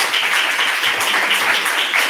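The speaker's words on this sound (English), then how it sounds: "There is a loud applause in the room." Loud, dense applause fills a conference room after a talk on accessibility in bioinformatics training, a continuous crackle of many hands throughout the short stretch.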